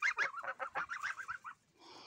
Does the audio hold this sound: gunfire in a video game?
no